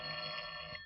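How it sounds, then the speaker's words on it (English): A telephone rings in an old radio drama, a steady electronic buzzing tone held for under a second at moderate level, with no voices. "the phone rang"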